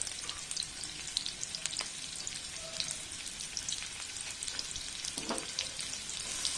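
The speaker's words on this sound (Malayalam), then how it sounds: "ഈ ഉള്ളി ഒന്ന് വഴന്ന് വരുന്നവരെ നമുക്കൊന്ന് വെയിറ്റ് ചെയ്യാം. നന്നായിട്ട് ഇളക്കി കൊടുത്തുകൊണ്ടിരിക്കണം." Chopped onions and green chillies fry in a pan with a steady crackling sizzle, broken by scraping stirs from a spoon, close and fairly loud with no talk.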